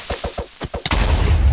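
A Minecraft creeper explosion: a few quick game hits and clicks, then a loud broadband blast at about 0.9 s with a rumbling low tail that carries on to the end, no talk.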